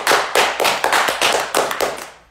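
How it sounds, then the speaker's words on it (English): A church congregation claps in unison, about seven firm, evenly spaced claps in a quick rhythm, close and fairly loud with no talk. "Somebody give God a clap."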